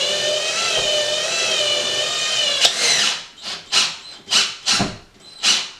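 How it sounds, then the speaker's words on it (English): A power drill whines steadily for a few seconds, then fires in a series of short, close bursts as it drives a screw home into a wall. "drill this one in"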